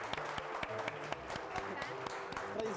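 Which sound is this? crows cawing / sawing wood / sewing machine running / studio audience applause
studio audience applause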